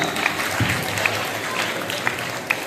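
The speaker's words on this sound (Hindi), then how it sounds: "सही जवाब, जोरदार तालियां।" A crowd at a quiz competition final claps steadily, a moderate burst of applause with a few louder individual claps standing out.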